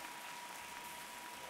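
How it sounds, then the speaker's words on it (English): A short burst of crowd applause from the video game Pit People, steady clapping throughout, fairly quiet and with no voices over it. "Get the applause."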